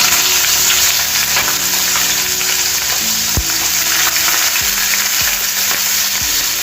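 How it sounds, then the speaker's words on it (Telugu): Chopped onions frying in hot oil with dried red chillies, cloves and a cinnamon stick, a loud continuous sizzle with occasional stirring scrapes, close up. "ఉల్లిపాయ ముక్కలు చిన్నగా కట్ చేసుకొని ఇప్పుడు కొంచెం బ్రౌన్ కలర్ వచ్చే వరకు వేయించుకోవాలి."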